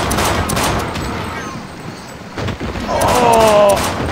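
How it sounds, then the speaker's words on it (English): An enemy explodes in the Sven Co-op video game amid rapid bursts of gunfire and blasts, loud and close, with players talking over the action. "God, he's exploded"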